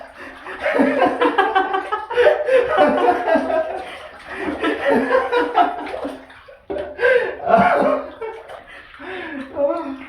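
A six-month-old baby splashes and kicks water in a bathtub, irregular near splashes running throughout beneath an adult's talk and laughter.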